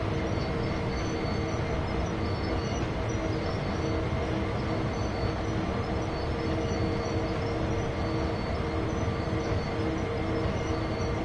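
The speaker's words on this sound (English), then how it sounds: "Now it's time for us to bring this train to a stop" A freight train in Train Sim World 2 on Sherman Hill rumbles steadily throughout, with continuous wheel and rail noise and a dense, unbroken roar and no talking.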